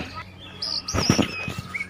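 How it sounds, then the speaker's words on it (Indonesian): A Kalimantan magpie-robin gives a brief burst of bright chirps and whistles, close and fairly loud, over a low background hum. "burung kacer Kalimantan"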